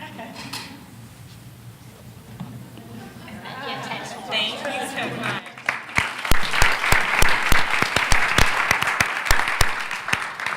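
An audience at a school board meeting bursts into loud, sustained clapping that builds and continues to the end, following quieter murmuring and a few voices beforehand.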